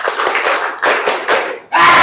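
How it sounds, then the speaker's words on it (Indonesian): A classroom of students claps in unison during a math clapping chant, loud bursts of rhythmic hand claps with group shouting, broken by short pauses and ending in a loud cheer. "Tepuk tangan."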